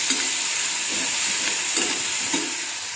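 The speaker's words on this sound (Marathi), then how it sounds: "आणि आता आपल्याला हे वाटाणे असे ब्राऊन होईपर्यंत, थोडे मऊसर होईपर्यंत असे रोस्ट करायचे." Peas roasting in a pan give off a steady close hissing sizzle, broken by soft periodic scrapes as they are stirred.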